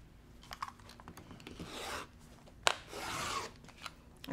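Rotary cutter slicing a fabric strip along a ruler while making a quilt block, two short rasping cuts, quiet and close, with small taps and rustles between them.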